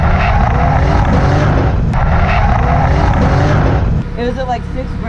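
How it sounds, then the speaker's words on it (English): A 1JZ-swapped Nissan 350Z engine sits on the rev limiter and bogs down, a loud, harsh, continuous roar that drops abruptly near the end. "On the rev limiter and bogging down"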